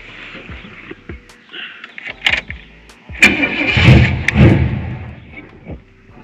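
A 454 big block Chevy V8 with an Edelbrock 1411 carburetor on a square body Chevy dually cranks over, then fires and catches, a loud near roar swelling to a rough run after several seconds of starter turning.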